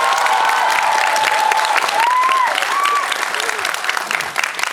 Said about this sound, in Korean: 김문정 음악 감독님에 대한 박수가 제일 큰 것 같죠?